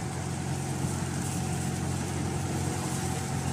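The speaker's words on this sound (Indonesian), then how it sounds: "sayup-sayup kita dengar mesin penggerak putaran penggulung tali yang akan menarik jaring naik ke atas sudah menyala" A winch motor hauling up a fishing net on a lift-net fishing platform drones steadily and continuously at a constant pitch, a dense mechanical hum with no breaks.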